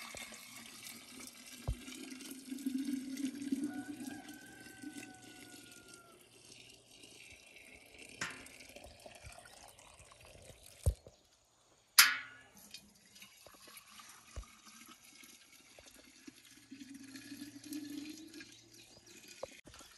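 Warm water pours and trickles into beehive waterers, a steady splashing close by with a brief louder burst midway, no talking.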